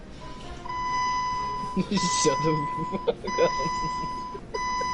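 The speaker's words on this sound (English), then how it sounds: "I'm listening to a 2013 Jeep Wrangler seatbelt alarm." A 2013 Jeep Wrangler seatbelt alarm sounds a steady electronic beeping tone that repeats in long pulses with brief breaks, while people talk loudly over it.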